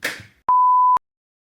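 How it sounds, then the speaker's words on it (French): A single clean censor beep, loud and steady for about half a second, cuts in right after a short burst of speech and ends abruptly into silence. "Tu vas biper les noms."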